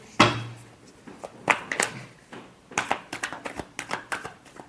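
Tarot cards are shuffled by hand close up, with a burst of crisp riffling followed by a quick run of light, papery slaps and flutters.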